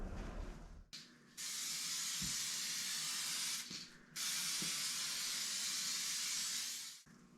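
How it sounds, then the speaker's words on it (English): Aerosol spray paint hisses in long continuous bursts onto a carbon fiber car spoiler, two sustained sprays separated by short pauses, close and loud. "this has a lot of stuff in this aerosol that you really don't want to be breathing"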